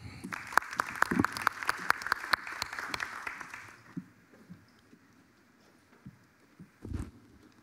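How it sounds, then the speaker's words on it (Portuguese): Conference audience at a solar-energy industry panel gives a round of applause that is dense for a few seconds, then dies away into a quiet hall with scattered small noises and a brief thump. "Salva de palmas, por favor."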